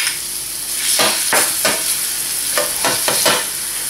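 Garlic sautéing in hot oil in a pan, a continuous bright sizzle broken by several scraping stirs at irregular intervals, close and loud with no talking.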